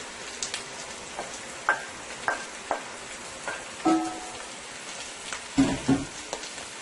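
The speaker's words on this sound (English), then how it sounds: "And you want to fry your shrimp, guys, on high heat" Shrimp and spinach fry over high heat with a soft, steady sizzle, broken by irregular taps and clinks from being tossed in the pan, the loudest near the end.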